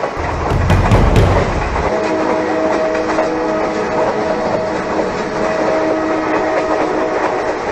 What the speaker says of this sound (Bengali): তারা ট্রেনের হর্ন শুনতে পায়, তার মানে ট্রেন আসছে